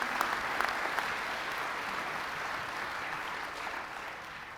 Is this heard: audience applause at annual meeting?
yes